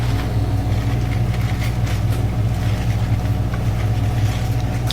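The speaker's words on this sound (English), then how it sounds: "So there we go, full speed spin." An Affinity washing machine drum spins at full speed after a repair, giving a steady, loud, continuous hum and rumble with a faint rhythmic whir and no talking.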